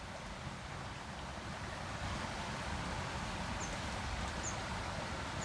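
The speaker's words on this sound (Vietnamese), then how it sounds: "Phía dưới mình đây là một cái con suối, mọi người nghe tiếng nước chảy không?" Steady broadband rush of a stream flowing below a bank in old-growth forest, continuous and fairly loud with no breaks, a few faint high chirps near the end.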